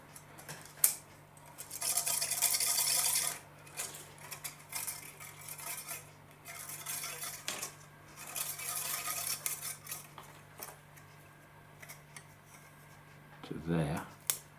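Rustling and crinkling clatter of an LED lighting strip being unwound from its reel and backing, for fitting inside a model railway coach, with irregular bursts of handling noise close by and a steady low hum underneath.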